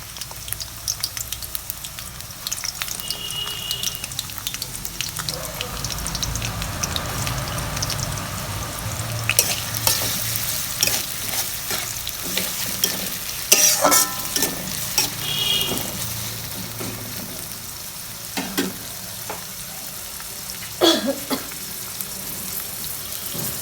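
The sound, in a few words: onions frying and sizzling in hot oil in a wok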